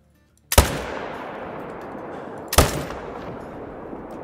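Two loud, close rifle shots in a hunting video game, about two seconds apart, each a sharp crack followed by a long, rumbling reverberant tail, with no speech.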